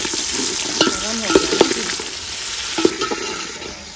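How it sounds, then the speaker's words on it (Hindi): Tomatoes, green chillies and onion frying in hot ghee, crackling with a constant loud sizzle and sharp popping bursts as the mixture is stirred, with no talking. "घी गर्म हो चुका है, इसमें टमाटर, मिर्ची, हरी मिर्ची, टमाटर, प्याज ऐड कर दिए हैं। वाह, अब देखो कैसे तिड़क रहा है।"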